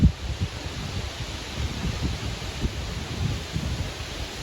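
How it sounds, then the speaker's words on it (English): Wind buffets the microphone on a bike ride near Weingarten in the Pfalz, a steady rushing roar with low gusty rumbles and no talking. "The wind picks up"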